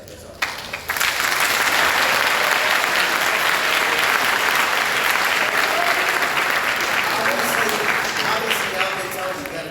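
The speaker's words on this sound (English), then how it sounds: "Obviously, y'all been told you got to clap and everything" A large audience of young attendees at a Tennessee Boys State gathering breaks into loud, steady applause that swells quickly and holds as a dense wash of clapping, with some voices mixed in.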